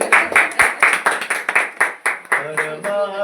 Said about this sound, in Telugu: వెన్నెలకు చప్పట్లు కొట్టండి